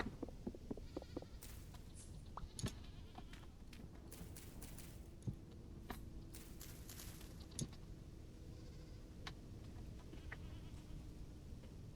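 Goats bleat in short, scattered calls from a nearby garden pen, fairly faint under a constant rough outdoor background noise with occasional clicks and knocks, and no one speaking.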